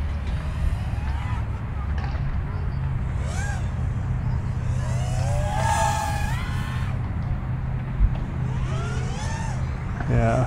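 The Geelang Lightning 120X FPV drone flies outdoors in wind, its propellers buzzing in rising and falling whines that swell with throttle over steady low rumbling noise.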